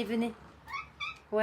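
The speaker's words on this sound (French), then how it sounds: "J'ai mon chat qui gratte à la fenêtre pour rentrer et il me fait presque pitié." A house cat meows at a window wanting to come inside, a few short close mews between bits of a woman's speech.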